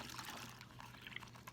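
A cup of water pours into a plastic baggie already holding a cup of vinegar, making a quiet, steady liquid trickle and splash that runs throughout.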